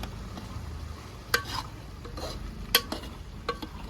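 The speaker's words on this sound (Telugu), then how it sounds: "బాగా ఫ్రై అవుతుంది" Mutton curry with garam masala frying in a pan, a steady close sizzle with a spoon stirring and scraping and a few sharp metallic clinks against the pan, no talking.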